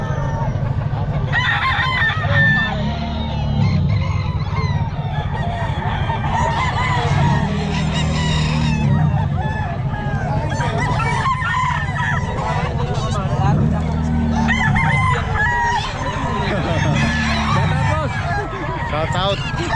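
White Kelso gamefowl roosters, 14 months old, crow repeatedly at a busy pet market, loud, near calls over steady crowd chatter and people talking, with other fowl honking and clucking around them.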